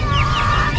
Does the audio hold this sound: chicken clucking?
yes